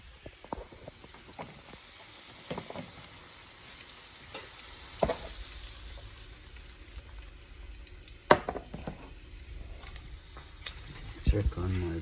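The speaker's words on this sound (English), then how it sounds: "Like to do my bacon on low flame" Bacon frying over a low flame, a soft continuous sizzle with scattered small pops and a few louder clinks and knocks from handling the pan, close by with no talking.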